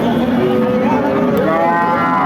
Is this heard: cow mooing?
yes